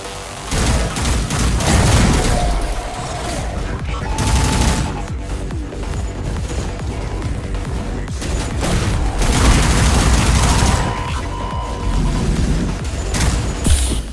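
Sustained gunfire from the Sprawl Zero shooter, with rapid automatic bursts and heavy booms layered over loud game music, dense and continuous throughout, with a voice speaking over part of it.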